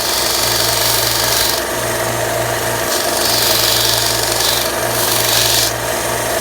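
Sander grinding down the front of a steel P225 pistol magazine, modified for a Star BM 9mm, with a loud continuous abrasive whine and hum, close up and steady throughout with slight shifts in pitch and pressure.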